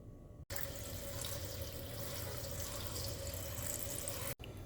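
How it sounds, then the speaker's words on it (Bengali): Malabar spinach leaves are washed under a running kitchen tap, a steady close splash of water into a sink that stops briefly at the start and near the end. "এবার শাকগুলো ধুয়ে নেব"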